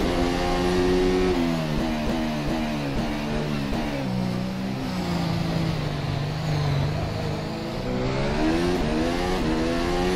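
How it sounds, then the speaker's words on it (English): A Formula SimRacing FSR 2018 development race car engine in rFactor 2 at Monza screams loudly through gear changes, pitch climbing and dropping in repeated upshifts and downshifts, close and continuous with no talking. "Holy moly, engine sounds."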